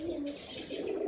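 Pigeons kept for sale coo softly in a brief, low, rolling burble, close by and alone with no talk over it.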